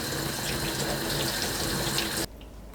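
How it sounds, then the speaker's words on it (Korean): Running tap water splashes steadily into a kitchen sink as cabbage is rinsed, a loud continuous gush that stops abruptly near the end, with no talking. "물에 씻어주세요."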